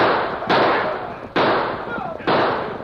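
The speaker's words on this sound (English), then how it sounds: "They're shooting." Three sharp, loud bursts of gunfire about a second apart, each followed by a long decaying rumble, as homesteaders and ranchers on horseback charge at Indians across a valley in a western radio drama.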